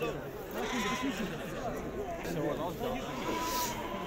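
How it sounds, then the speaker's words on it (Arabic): Sheep bleat repeatedly at a busy Moroccan weekly livestock souk, with mazouzi rams for sale, the calls mixing with steady crowd chatter and market bustle at moderate distance. "هذا خروف مازوزي زيادات ديال شهر 3 4 5"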